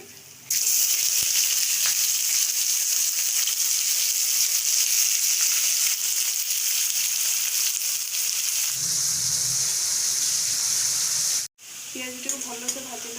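Sliced onions frying in a pan of hot oil for chicken biryani, a loud continuous sizzle close up that holds steady, briefly cuts out near the end, then gives way to faint clatter and a voice.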